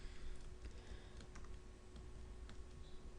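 Rapid typing on a computer keyboard while entering Visual Basic code, steady clicking keystrokes over a low background hum with no speech.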